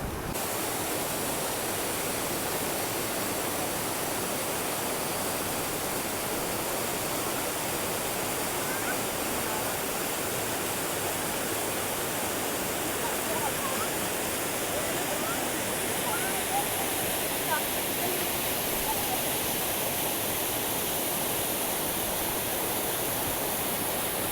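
A 131-metre waterfall in New Zealand roars as a steady, dense rush of falling water, loud and close, holding constant without breaks for the whole stretch.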